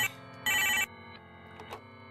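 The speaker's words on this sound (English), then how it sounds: "Once I hear the phone ringing" In the Lacey's Wardrobe horror game a telephone gives one short, bright electronic ring burst. A low hum and a few faint clicks follow.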